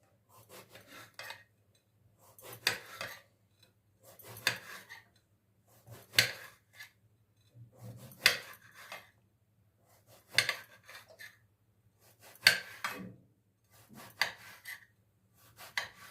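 A knife slicing through eggplant on a board, slow repeated rasping cuts spaced a couple of seconds apart, close and fairly quiet with a low steady hum beneath.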